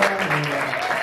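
Steady applause from a small group, continuous and fairly close, with a voice faintly audible beneath the clapping.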